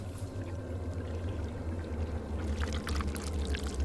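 Water pouring steadily in a continuous rushing stream, fairly loud and close, growing slightly stronger with splashing toward the end, with no voices over it.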